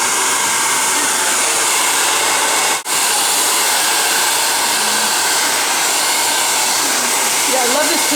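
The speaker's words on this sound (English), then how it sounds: "But it's a nice dryer." Loud, continuous whooshing roar of a hair dryer blow-drying hair after a layered haircut, running close by, briefly cutting out for a moment before resuming, with faint talking underneath.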